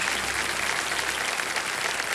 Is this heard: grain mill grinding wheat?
no